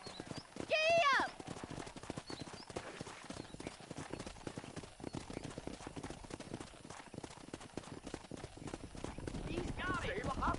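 A horse in Red Dead Redemption 2 gallops with steady, rhythmic hoofbeats throughout, and a whinny rises early on. A character speaks over the hooves.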